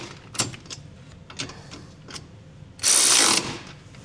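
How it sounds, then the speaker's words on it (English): A wrench and driver snug down the hardware on a B&W trailer hitch receiver on a 2025 Kia Telluride: scattered metallic ratcheting clicks and knocks, then a short loud burst of driver whir near the end. "I'm just going to use a wrench, and my driver, you can use a ratchet or whatever"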